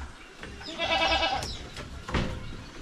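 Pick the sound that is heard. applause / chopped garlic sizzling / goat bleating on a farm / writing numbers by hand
goat bleating on a farm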